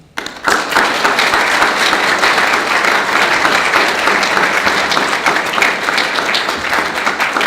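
An audience bursts into sustained applause welcoming speaker Sophie Singh at a talk on Europe's refugee crisis, loud and dense clapping after a short quiet start, continuing steadily throughout.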